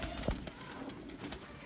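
Pigeons of the Teddy, Golden and Kamgar breeds coo softly in a short, quiet stretch, with a brief low call near the start over a steady background hiss.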